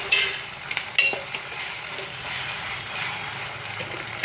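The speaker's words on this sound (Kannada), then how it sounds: "ಇವಾಗ ಈರುಳ್ಳಿ ಜೊತೆ ಇದನ್ನು ಮಿಕ್ಸ್ ಮಾಡ್ಕೊಂಡ್ಬಿಡೋಣ." Ginger-garlic paste being stirred into frying onions in a pan for pork biryani: a steady sizzle with a few sharp utensil scrapes and clinks, moderately loud and close, with no talking.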